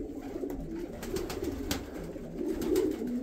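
Male pigeons in a loft coo in low, throaty bursts, several birds overlapping close by, with soft wing flutters and rustling in the background.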